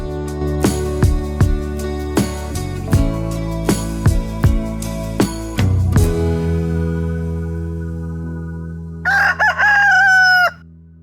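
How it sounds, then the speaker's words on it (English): A plucked, music-like run of notes gives way to a loud rooster crow near the end, standing alone and close. "Listen to all those birdies. Can you hear all the birds?"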